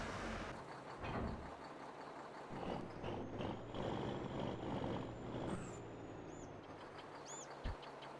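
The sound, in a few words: Kenworth truck with air brakes in farming video game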